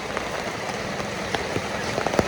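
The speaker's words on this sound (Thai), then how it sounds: "ฝนตกแล้วจ้าฝนตกแล้วจ้า" Rain falling steadily on a surface, with a soft constant hiss and scattered sharper drops pattering nearby.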